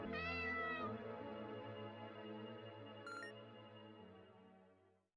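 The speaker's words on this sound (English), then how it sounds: "That's your cat." Cat meowing in the horror video game Mausoleosis, a long drawn-out meow sliding in pitch over an eerie sustained musical drone that slowly fades away.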